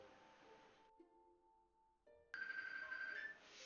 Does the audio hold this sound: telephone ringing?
yes